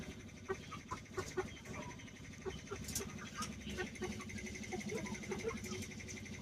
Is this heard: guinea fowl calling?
yes